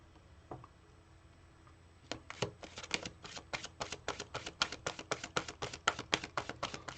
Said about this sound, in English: Shuffling to the very last second